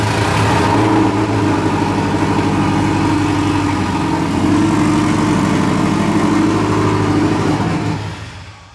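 A car engine, unused for six to twelve months or more, runs loud and close at a steady idle with a rough, even throb and slight rises in pitch before cutting off at the end.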